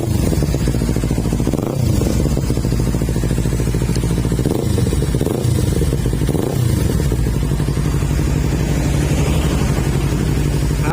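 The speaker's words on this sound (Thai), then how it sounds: "ฟังเสียงเครื่องกันนะครับ" A 2017 Kawasaki Ninja 300 engine runs steadily at idle with a throbbing, slightly clattery rumble, plus a few brief blips of throttle, close and loud.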